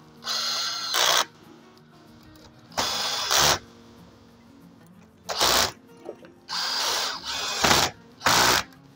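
Screws being tightened one by one on terminals inside an ABB consumer unit fitted with Nano brand breakers and busbar, heard as five or six separate bursts of close, scraping driver noise with quiet gaps between them.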